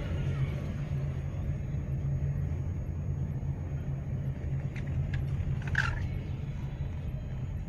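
A car idles with a steady low rumble while being parked beside a tree at a city mall, with a brief jingle of keys near the end and no speech.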